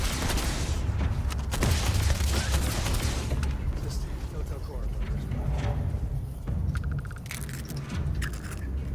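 Gunfire in the video game Starfield: dense bursts of shots and booms, loudest early on and then in scattered volleys, with someone talking over the action.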